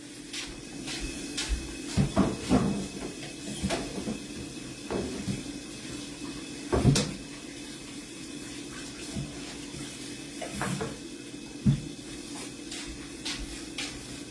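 Items being washed under a running kitchen tap, with a steady stream of water broken by clinks, thumps and clatters of handled dishes at irregular intervals, fairly close, and no talking.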